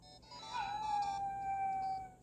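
A virtual dog howls in the Nintendogs 3DS game, one drawn-out, wavering howl that rises sharply and then holds steady over soft background game music, quiet and alone.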